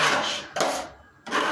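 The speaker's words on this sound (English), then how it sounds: "now I'm going to feather the edge" A drywall knife scrapes along the edge of fresh joint compound on a water-damaged wall patch, making two or three close, gritty rasping strokes with brief pauses between them.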